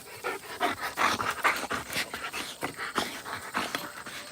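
A dog panting close by in quick, rhythmic breathy huffs with a faint whimper, heavy and steady throughout and unaccompanied by speech.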